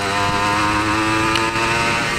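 A 1996 Honda NSR 150R two-stroke motorcycle engine runs steadily at a buzzing idle, close and loud with a continuous droning tone and no speech.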